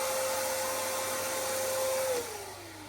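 A vacuum cleaner picks up fine, powdery dust from sanded sealer, a steady close whine and rush of airflow whose pitch drops near the end as the motor changes load, with no voices.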